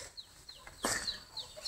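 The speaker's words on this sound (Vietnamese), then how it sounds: "Gà thấy người nó sợ chạy." Free-range chickens raised on garden insects give short, soft clucks and squawks, fairly quiet, with a brief rustling burst partway through.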